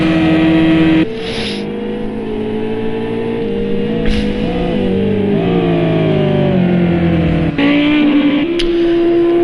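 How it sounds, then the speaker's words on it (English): A BMW GT3 race car in the video game Project Cars 2 screams down the Camel Straight at Spa, its engine droning loud and steady, climbing through the revs with short breaks at gear changes. "So that BMW is absolutely flying down the main straight, or down the Camel Straight, I should say."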